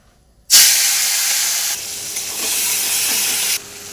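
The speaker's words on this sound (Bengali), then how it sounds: "মাছে লবণ হলুদ মাখিয়ে নিয়েছি, এবার ভেজে নিব" Salt-and-turmeric-rubbed prawns drop into hot oil in a wok, bursting into a loud, sudden sizzle that settles into a steady close hiss, dips briefly, then swells again, with no voices.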